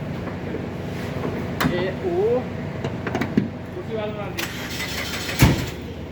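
A Suzuki Baleno car engine cranks and starts, steady engine noise with brief starter bursts and clicks, people talking over it nearby.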